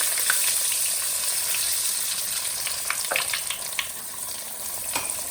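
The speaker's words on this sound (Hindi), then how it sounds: "ये देखिए मक्खन मैंने शामिल कर दिया है" Butter sizzling in hot oil in a pan while making prawn tempura, a steady bright frying hiss with small crackles and pops throughout, close and loud.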